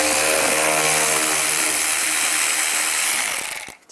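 A ratchet fitted with a T20 socket spins screws out on a Chevy Equinox (2010-2017), giving a loud, steady run of fast pawl clicks that carries on for several seconds before slowing and fading.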